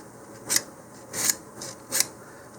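Hand sanding along the root edge of a model rocket fin, on a Mach1 Tycho II BT50 kit; three quiet, evenly spaced rasping strokes, close up, with no talking.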